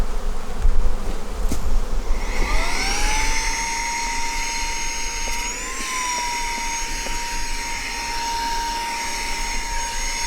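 Honey bees hum around an open hive, a steady dense drone close by with a clear rising whine that settles into a sustained tone, under faint handling knocks.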